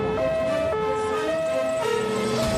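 A fire engine siren wails as firefighters set out on an emergency call, alternating two-tone blasts that hold steady and loud over engine and road rumble, with no talking.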